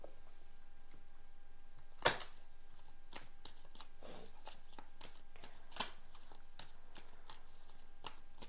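Tarot cards riffled and shuffled by hand in a quiet room, soft papery flicks and slaps recurring through the stretch, with a couple of sharper snaps standing out, close and fairly faint with no talking.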